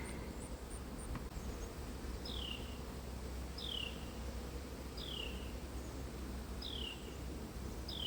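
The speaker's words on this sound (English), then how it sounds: "Got a bee in my shirt already." Honey bees buzz around a glass observation hive, a steady low insect hum filling the air, with faint short chirps repeating at regular intervals over it.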